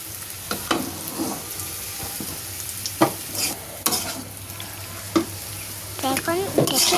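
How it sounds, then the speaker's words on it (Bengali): Potatoes are stirred in a hot pan for a singara filling, with low sizzling under repeated scraping and clattering strokes of a spatula, close and fairly loud. "আলুটা দিলে এবারে নাড়াচাড়া দিলে সাথে সাথেই গরম হয়ে যাবে"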